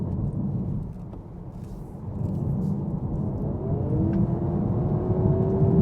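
A Honda Prelude hybrid drives through a corner on a racing circuit, its engine a low steady rumble from inside the cabin that rises into a climbing whine as it accelerates out of the bend.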